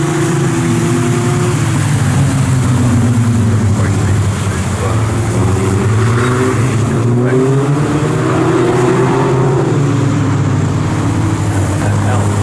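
750MC Locost race cars accelerate at Snetterton during a championship race, with several engines snarling and rising in pitch as they pass close by, while a commentator talks over the roar.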